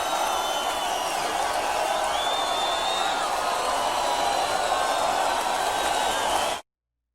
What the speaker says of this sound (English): You can hear the crowd, boy.